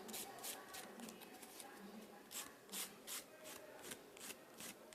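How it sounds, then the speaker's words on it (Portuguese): A nail file rasps back and forth while shaping a fingernail, producing quiet, rhythmic bursts of gritty scraping that repeat in short strokes with gaps between, close to the listener. "trabalhar com a lixa para poder me dar um acabamento melhor e mais perfeitinho"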